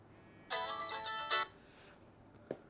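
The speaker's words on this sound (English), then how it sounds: "Oops, getting a phone call," An iPhone 4 ringtone signals an incoming call: a bright, repeating melodic chime pattern, fairly close and clear, with a short second burst after about a second, then a soft tap near the end.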